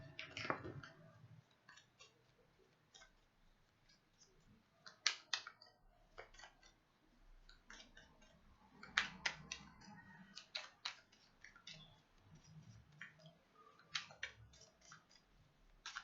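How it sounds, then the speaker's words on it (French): Tarot cards shuffled by hand in a quiet room, a run of soft riffling snaps and papery clicks coming in short uneven bursts, close and faint, with no voices. "je vais continuer à battre les cartes"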